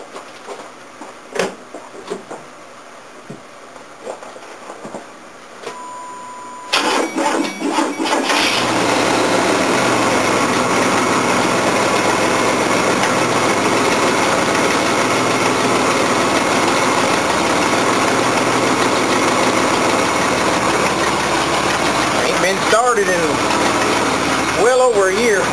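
A 1987 Chevrolet S15 pickup's engine cold-starting after sitting for over a year, jump-started from another truck: a few quiet moments, then a crank and catch into a loud, steady idle with a possible exhaust leak.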